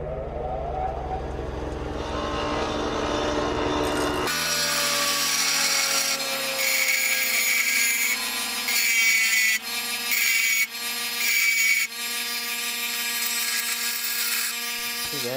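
Metal file flattening and tapering an aluminum axle slider part for an Alta Redshift SM supermoto, a steady rasping and scraping stroke with faint rhythmic variation, close and loud, no speech.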